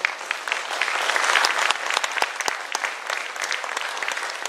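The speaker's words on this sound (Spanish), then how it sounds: "pedimos un fuerte aplauso" Audience applause at a formal event, steady clapping from a roomful of people lasting the whole stretch with a few sharper individual claps standing out.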